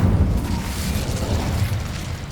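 Incendio fire spell blast in Hogwarts Legacy, a deep rumbling whoosh of flame sustained for about two seconds, loud and close with no talk over it.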